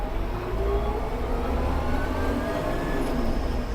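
Japanese Kubota KL-550 mini tractor engine pulling in fourth gear with the throttle opened, a steady, loud, close diesel drone that holds through the clip with no voices.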